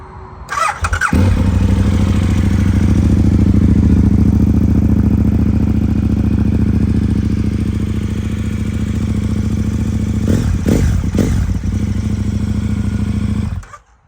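A KTM 1290 Adventure motorcycle engine fires up and runs loudly at a steady, rumbling idle for several seconds, heard close, with a few clunks near the end before it cuts off.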